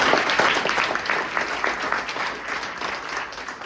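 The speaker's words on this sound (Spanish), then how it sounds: "Un aplauso para el Padre." A congregation at a Spanish Catholic gathering honoring Opus Dei priests applauds a priest, a moderate, steady round of many hands clapping that slowly fades, heard alone without talk.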